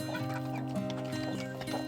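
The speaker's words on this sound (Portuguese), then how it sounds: "E é uma galinha com 3 anos de idade." A large three-year-old hen, a cross of Plymouth Rock and Rhode Island, clucks in a low murmuring run of short notes close by, with farmyard background and no talk.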